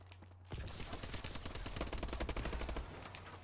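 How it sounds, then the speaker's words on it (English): Rapid automatic gunfire in Call of Duty Advanced Warfare, a dense burst of shots starting abruptly and continuing steadily at close range, no talk over it. "somebody's shooting at me from somewhere over here"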